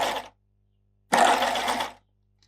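Baby Lock Euphoria coverstitch machine sewing stitch lines, heard as two short close bursts of rapid mechanical stitching, the second longer, separated by silence.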